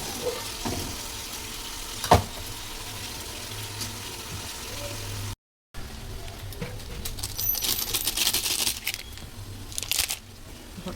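Potato pieces go into a hot pan on a home stove: a sharp clink early, a brief dropout, then a bright sizzle of frying that swells up and fades, fairly faint overall.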